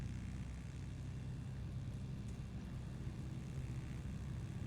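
An aircraft engine in Microsoft Flight Simulator drones steadily as power comes in for takeoff, a low, even rumble with no talk.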